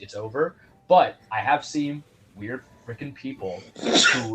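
A sneeze bursts out during a lively sports chat show conversation, a sharp noisy blast near the end amid several people talking closely over one another.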